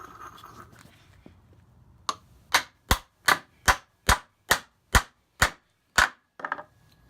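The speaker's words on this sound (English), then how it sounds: "I'm just going to hammer in this last nail" A nail is hammered into wood while a sawhorse is being built, with about ten sharp, evenly spaced hammer blows landing close and loud, each a crisp knock with silence between strikes.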